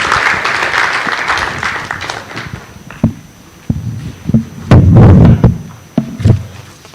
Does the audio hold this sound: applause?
yes